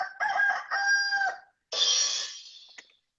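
A human voice imitates a rooster crowing in two loud, drawn-out calls, the first broken into stuttering segments and the second a long, falling cry, heard alone without other talk.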